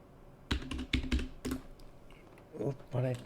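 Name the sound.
typing on a computer keyboard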